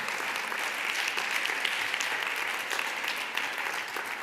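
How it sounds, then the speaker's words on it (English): A conference audience claps steadily and fairly loudly for several seconds, a dense, even patter of hands without cheering. "I would like a big applause to all of them"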